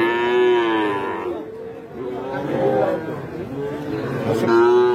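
Young bulls of a special breed at a busy weekly cattle market in Boda, Panchagarh, lowing loudly in long drawn moos at the start and end, with a murmuring crowd and background chatter between calls.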